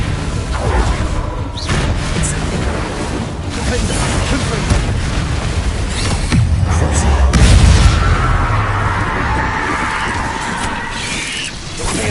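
Incendio fire spell cast in Hogwarts Legacy: whooshing, crackling bursts of flame and booming impacts amid busy battle sounds, with a voice talking over parts of it.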